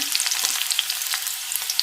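Panch phoron whole spices and onion sizzle steadily in hot oil in a wok, producing a close, even hiss broken by small crisp pops and crackles, with no voices.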